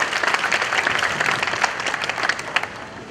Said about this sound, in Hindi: मैं चाहूंगा कि आपकी तालियां भी उनका अभिनंदन करें।